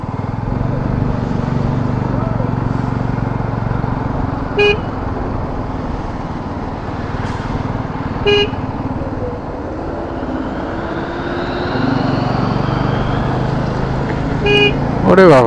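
Lorries crowd a toll plaza on the Puri to Kolkata highway, a steady loud engine rumble with several sharp horn toots spread through it, heard from inside a vehicle while people talk.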